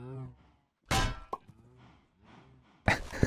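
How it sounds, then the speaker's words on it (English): In modded Minecraft, an anvil drops onto a mob's head with one heavy metallic clank, followed later by another bright impact, while people talk around both hits. "He put an anvil on its head."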